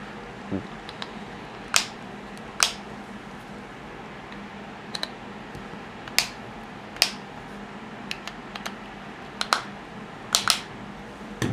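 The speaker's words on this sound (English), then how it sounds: "for your grip screws, we're going to be tightening to 10 inch-pounds. So we'll go around. We like to make sure that this clicks twice." Torque wrench clicking while tightening frame grip screws to 10 inch-pounds during assembly of a ShaloTek FLEX Frame, a string of sharp, close clicks spaced unevenly, several falling in quick pairs, over a quiet room background.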